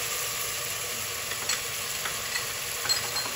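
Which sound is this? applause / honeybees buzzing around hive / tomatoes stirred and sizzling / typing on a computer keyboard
tomatoes stirred and sizzling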